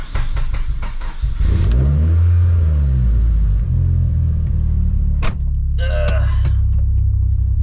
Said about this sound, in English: every time I do start the car up after being outside